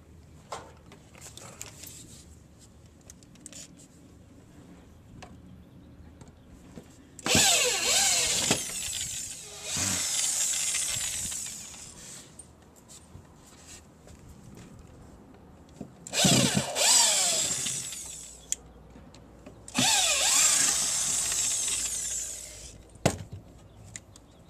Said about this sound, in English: I'm going to loosen what screws I can.